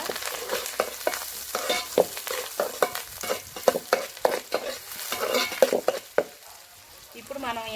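Curry leaves frying in hot oil for a Telugu bottle gourd (sora) fry, a steady close sizzle broken by irregular scraping stirs of a spoon against the pan.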